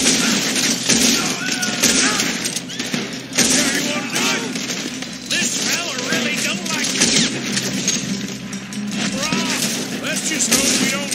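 Gunfire in Red Dead Redemption II, repeated sharp shots and bursts spread across a tense firefight over a steady rumbling background, with voices calling out between the shots.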